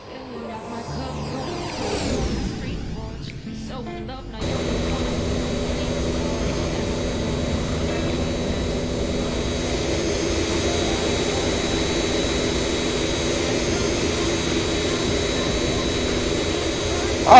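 A McDonnell Douglas MD-80 airliner in the X-Plane 11 flight simulator makes a jet flyby, heard as a loud, steady engine roar that holds nearly unchanged after a brief shift in the first few seconds.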